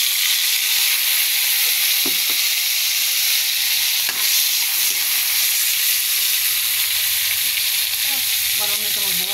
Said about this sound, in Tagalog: Saka ilagay na natin yung kamatis.